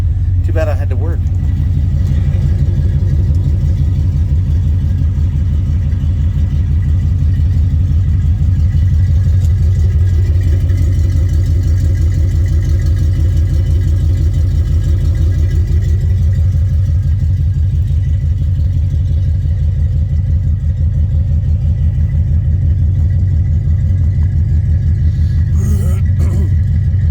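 A 1971 Chevrolet C10 pickup truck idles after a cold start, its engine giving a loud, deep, steady rumble at close range with no break from start to finish.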